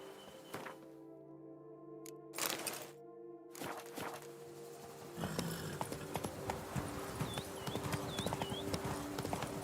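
Roach, Geralt's horse in The Witcher 3 video game, clip-clops along in a brisk, steady rhythm of hoofbeats, joined partway through by busier ambient sound and a few bird chirps, with no speech.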